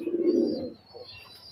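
A Pakistani highflyer pigeon gives a short, soft, low coo close by, followed by a faint quiet tail.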